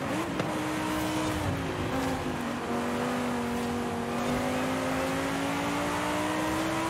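A Lamborghini Huracan engine drones steadily in the Forza Horizon 5 racing game, its pitch holding high and climbing slowly through gear changes as the car chases a Ford GT around a circuit.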